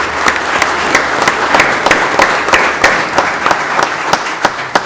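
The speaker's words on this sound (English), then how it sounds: "he deserves a round of applause as appreciation." Applause from an audience at a fire district award ceremony honoring Phil Pinto, a steady wash of many hands clapping with some sharper individual claps standing out, fairly loud and continuous.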